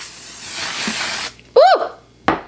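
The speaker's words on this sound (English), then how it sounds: "Okay, so I'm just gonna spray it all over the face." Era Beauty Aerobrush foundation mist sprayed from a can onto a face: a long, steady hiss of about a second, then a short vocal exclamation and a brief sharp sound near the end.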